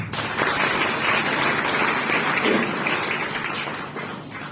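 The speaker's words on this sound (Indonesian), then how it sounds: "Tepuk tangan." Dense, continuous applause from a large audience of students at a Maulid Nabi celebration, steady and loud throughout and thinning slightly near the end.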